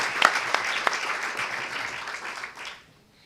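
A congress audience on journalism and society gives a brief round of applause in remembrance, a few loud claps standing out before it quickly dies away.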